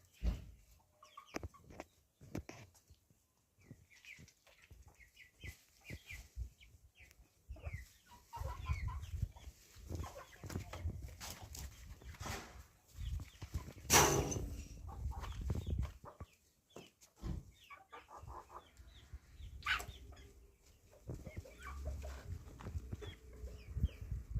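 Chickens cluck and peep softly around a quiet yard, with thin chirps from bantam and larger chicks among ducks, and scattered shuffling noises.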